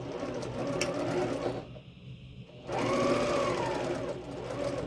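A sewing machine stitches a quilted flying geese unit with star points, running in steady bursts that pause briefly midway, then resume as a close, continuous mechanical whir.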